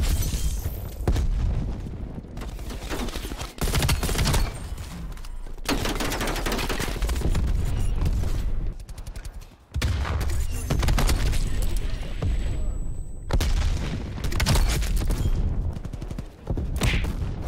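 Grenade explosions and rapid gunfire, including M16 shots, in the video game Call of Duty Cold War, with dense bursts of automatic fire and booms in a busy, loud match mix under occasional talk.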